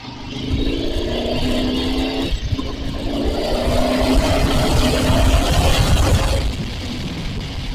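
A Suzuki TL1000R motorcycle riding along twisty roads in second gear, its engine a loud steady drone that rises a little in the middle before easing off near the end, heard with no talking.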